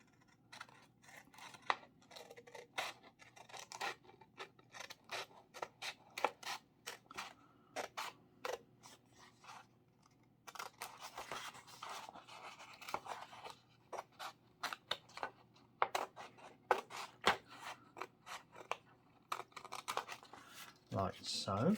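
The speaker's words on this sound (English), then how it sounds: "So with our scissors, just trace around the line that you've just drawn." Scissors snipping repeatedly through paper while cutting out an angel shape for an origami Christmas decoration, a close series of crisp clicks and rustles with a pause midway, then a denser run of cuts; a voice talks faintly underneath.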